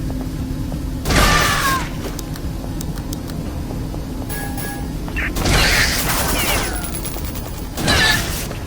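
Pump-action shotgun fire in the first-person shooter The Citadel: three loud, booming shots spaced a few seconds apart, each with a short crack and rumbling tail over steady game ambience.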